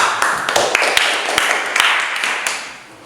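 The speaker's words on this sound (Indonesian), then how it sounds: "mari kita beri aplaus" An audience applauding after a presentation at an Indonesian school session: a few people clapping in quick, uneven claps, fairly close, fading out toward the end.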